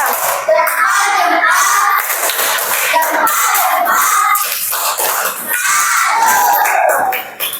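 Students in an Indonesian classroom clap for a student group, the applause mixed with excited children's shouts and cheers, loud and lively for several seconds before dropping off.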